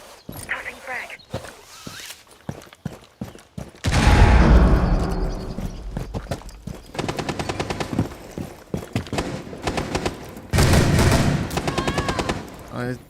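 Frag grenade going off during a video game firefight: two heavy booming blasts with deep low rumble, set among bursts of gunfire, clicks and shuffling, with voices talking over parts of it.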